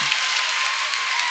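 A crowd at a high school girls basketball game applauds with a dense, steady burst of clapping that fills the whole short moment.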